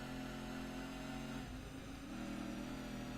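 A car engine in Gran Turismo 2 drones and revs continuously with a steady mid-pitched hum, dipping briefly before climbing again, faint and even throughout with no voices.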